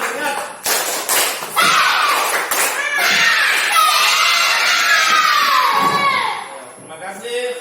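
A classroom of children does the tepuk semangat clapping chant, with rhythmic claps and loud shouted chanting from the group that continues steadily for several seconds.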